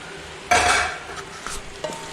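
Chicken tipped into onion masala in a pressure cooker pot: one sudden clattering thump, then a short sizzle and a couple of lighter scraping knocks of stirring, near and without speech.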